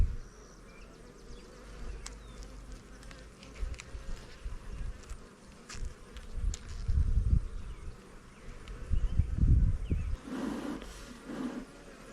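Bees swarm and buzz around an opened hive with exposed larvae, a continuous close drone rising and falling as insects pass near, with brief louder bursts and some rustling, no talking.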